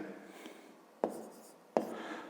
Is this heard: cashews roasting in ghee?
no